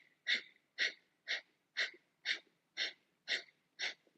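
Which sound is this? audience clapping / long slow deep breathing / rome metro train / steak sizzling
long slow deep breathing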